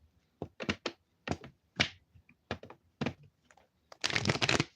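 Tarot cards are shuffled close up in short, sharp bursts of slapping and riffling, ending in a longer, louder flurry of cards.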